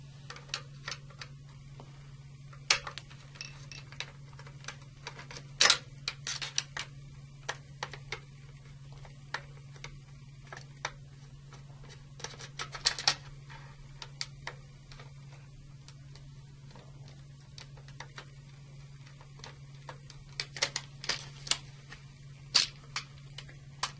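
A No. 2 Phillips screwdriver turns out the mounting bracket screws on an Eaton Series NRX circuit breaker. It makes sparse, irregular small ticks and clicks over a low steady hum, close and quiet.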